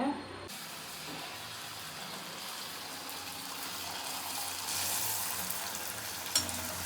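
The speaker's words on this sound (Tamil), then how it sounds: "இதை வந்து பொரிச்சு எடுத்துடலாம்." Rolled dough snacks deep-fry in hot oil with a steady, close sizzling hiss that swells louder partway through, with a brief sharper crackle near the end.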